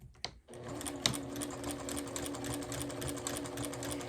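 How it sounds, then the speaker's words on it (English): A sewing machine stitches quilt binding at a quarter-inch seam, running in a steady fast whirring hum after a couple of brief clicks at the start. "gonna go ahead and stitch it at a 1/4 inch seam allowance"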